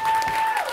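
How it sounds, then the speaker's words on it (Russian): Brief burst of audience clapping at a live concert with a jazz quartet, a dense even patter of many hands, with a sustained tone ringing underneath. "Давайте аплодисментами сейчас проводим"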